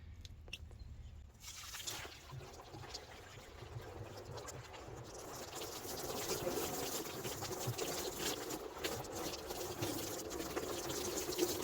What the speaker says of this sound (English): we're just gonna start just running water, straight water through